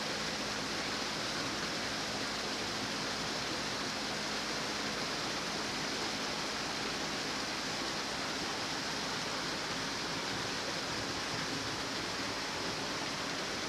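Steady rain falls on a narrowboat along a canal, a constant dense hiss with no breaks, close and fairly loud, with no voices.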